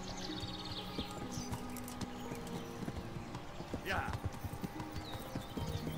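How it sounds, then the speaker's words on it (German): Horse hooves clip-clopping at a steady rhythm while riding in the video game Kingdom Come Deliverance, with a brief whinny partway through and someone talking over it. "So, wir reiten mal weiter."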